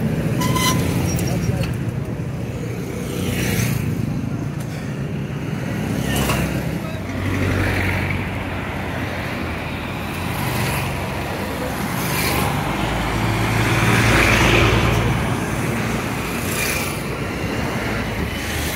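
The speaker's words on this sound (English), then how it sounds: "Subarus always roll on the roads of Uganda." Traffic on the Kawempe-Ttula road in Kampala, Uganda, with Subaru cars rolling past: a continuous roadway hum with several vehicles swelling up and fading away in turn at moderate distance.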